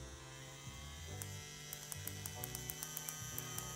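A CNC P6 tattoo machine with a CNC customized X1 motor running at high operating voltage, a faint steady electric hum and whir that shifts pitch slightly, with small repeated clicks, close and alone.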